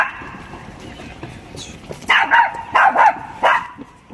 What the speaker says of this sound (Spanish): aquí estamos sacando a Nanito, que por cierto ladra mogollón, mogollón, mogollón